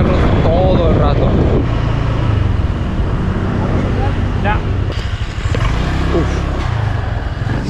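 Motorcycle riding through rice-growing countryside lined with houses: steady loud engine drone and rushing wind noise throughout, with a few brief rises in engine pitch; a voice speaks intermittently over the ride.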